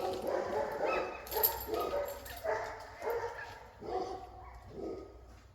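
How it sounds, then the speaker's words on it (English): A dog on a nearby hill barks about six times in an uneven rhythm, the sharp barks fairly close and clear against a quiet background with no talk. "Must be a dog at the hill."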